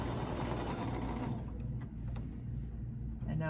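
A sewing machine doing ruler-guided free-motion quilting runs steadily up close with a fast, even mechanical hum and stitching rattle, easing slightly partway through.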